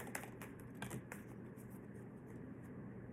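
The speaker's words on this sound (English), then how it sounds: "I just broke the deck in half to shuffle." A tarot deck, split in half, is shuffled with soft rapid clicks and light patter of cards, quiet and close, with a few sharper snaps in the first second.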